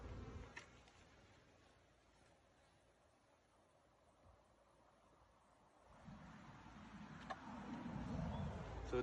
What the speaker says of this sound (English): there are plenty of bees and brood in different stages